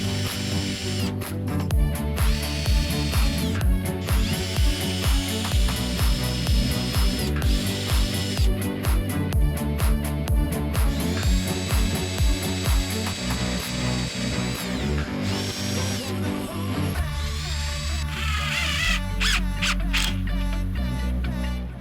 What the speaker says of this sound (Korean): 드릴로 이제 길이로 좀 구멍을 내놓고 쭉 긴 걸로 하겠습니다